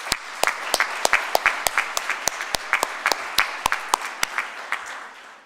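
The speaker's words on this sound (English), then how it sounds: "so let's give them a big round of applause." Applause from the audience at a St. Catharines State of the City event, a thinning patter of individual claps over a steady wash of hands, fairly close and with no talk over it.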